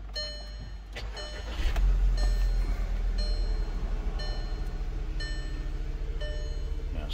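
A 2011 VW Tiguan is started with a freshly copied ID48 key: the engine catches with a low rumble about two seconds in, then settles into a steady idle while a dashboard chime beeps at regular intervals.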